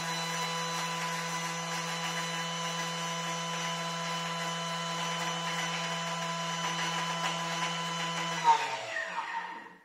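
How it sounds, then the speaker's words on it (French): A blender runs at full speed for about eight seconds, grinding granulated sugar into icing sugar. It gives a steady, loud motor whine with a strong hum, then spins down and rattles to a stop near the end. "Et là, du coup, je vais mixer à fond. 10 secondes."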